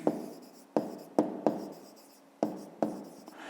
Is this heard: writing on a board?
yes